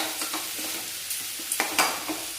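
Ingredients for egg paniyaram sautéing in a pan, a steady close sizzle broken by a few sharp scrapes and taps of a stirring spoon against the metal.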